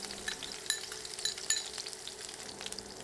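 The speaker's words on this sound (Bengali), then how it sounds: "এখন সব কিছু নেড়ে ভালোভাবে ভেজে নিব।" Onion, garlic, dried chilies and five-spice seeds fry in oil at medium heat, a faint steady hiss of sizzling with light pops and a few small metallic clinks.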